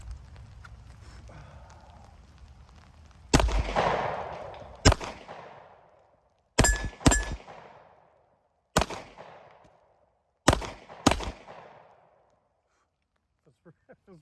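Sharp shots from a Glock 43X pistol fitted with night sights, about seven loud reports in spaced pairs and singles with brief echoing decay, following a stretch of quiet background murmur.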